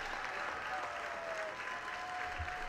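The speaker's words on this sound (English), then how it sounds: "The crowd on their feet here at Muzzy, clapping their hands." A baseball crowd on its feet at Muzzy Field claps steadily with their hands, a dense, continuous wash of applause at moderate distance that never breaks, with a faint tonal whine running beneath it.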